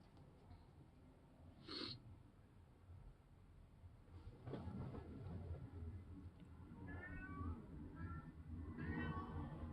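A cat meows faintly a few times from a distance at a bedroom door, short drawn-out cries amid quiet background rustling.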